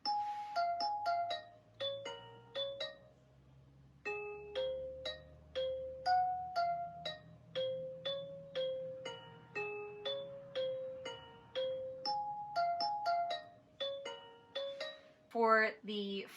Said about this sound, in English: The kalimba part,